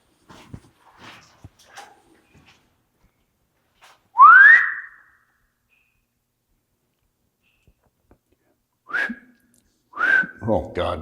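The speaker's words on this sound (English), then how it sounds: "No, I just heard whistling." A person whistles inside an abandoned New Jersey mine: a few short rising whistles with long quiet gaps between them and faint scuffs in the background.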